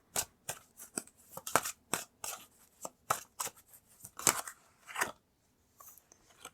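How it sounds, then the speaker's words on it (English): Tarot cards being shuffled and drawn from a deck, a series of crisp, close, irregular papery snaps and riffles spaced through the stretch, each short and sharp, with a brief lull near the end before a few softer flicks. "I'm going to pull some more cards."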